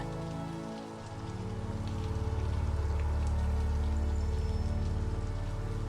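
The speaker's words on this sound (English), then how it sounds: "Just the rain repeating." Steady rain falls on a surface, a dense, even patter of drops that holds constant at moderate loudness throughout, with no voices present.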